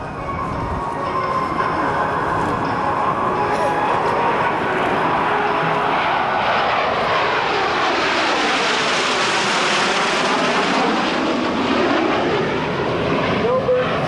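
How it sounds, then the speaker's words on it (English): Canadian Snowbirds Tutor jets fly past at an airshow, a loud steady jet roar that swells and sweeps through a Doppler pitch shift as the formation passes overhead, with faint crowd or announcer voices underneath. "Canadian Tudor aircraft."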